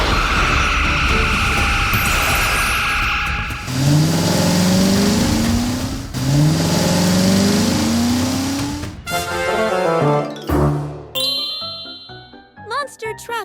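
A cartoon monster truck engine revs up in two rising surges, then sputters and cuts out in choppy bursts and chimes as it runs dry of fuel.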